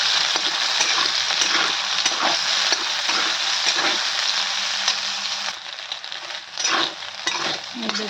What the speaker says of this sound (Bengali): দেখুন খুব ভালোভাবে আমি সয়াবিনটা ভেজে নিয়েছি